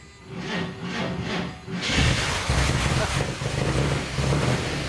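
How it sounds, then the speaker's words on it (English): A six-cylinder 1954 Chevrolet Corvette engine cranks with a 6-volt system, then catches at about two seconds and runs with a steady, loud, burbling rumble like a motorboat that continues to the end. "which came with 6-cylinder engines that Lewis admits had no power and sounded like a motorboat"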